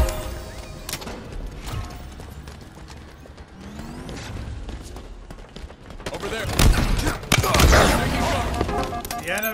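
Gunfire in a Halo Infinite Strongholds match crackles in scattered bursts under game voice callouts, with mechanical clatter throughout, swelling into a louder, denser volley near the end.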